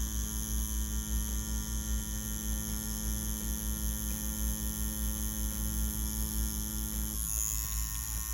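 An Ambition Ninja wireless tattoo machine runs at 7.5 volts, giving a steady, close electric hum and buzz that holds without a break and ends with a faint change near the finish.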